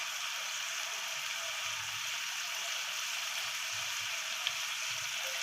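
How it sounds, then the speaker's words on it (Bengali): A steady, faint sizzle and bubbling from a hot pan on a low gas flame holding fish head and cabbage after water goes in, constant throughout with no talking. "আমরা একটু জল দিয়ে দিচ্ছি।"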